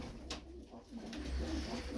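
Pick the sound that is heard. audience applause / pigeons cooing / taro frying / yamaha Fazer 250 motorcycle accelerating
pigeons cooing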